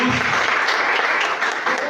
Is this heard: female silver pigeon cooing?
no